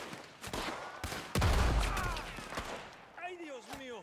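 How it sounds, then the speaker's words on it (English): Shootout gunfire in Red Dead Redemption 2: several sharp, loud shots crack out at irregular intervals, one heavy blast standing out, with voices talking between and over them. "It's a shootout."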